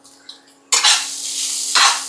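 Half a cup of grated coconut with a pinch of cumin roasting in a hot pan for Onam sambar: quiet at first, then loud scraping stirs and a steady sizzle, with a second burst of stirring near the end.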